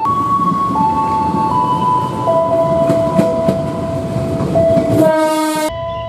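Container freight train at a port, a loud steady rumble with a prolonged tonal horn blaring close by, ending in a bright shifting horn chord that cuts off abruptly.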